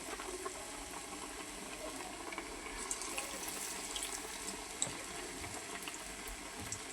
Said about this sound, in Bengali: যে বাকি চপগুলো আমি ভেজে নিতেছি